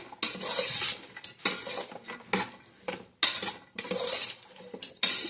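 Vegetables fry in oil for an avarekalu pulao while a spoon stirs them, with loud close bursts of metal scraping against the pan over a light sizzle.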